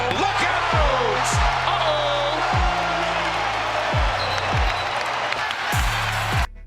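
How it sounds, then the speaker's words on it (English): A basketball arena crowd roaring and cheering for Zion Williamson, a loud, continuous wall of noise with a ball bouncing in steady thuds underneath and a few whistles and calls. "Crowd cheers."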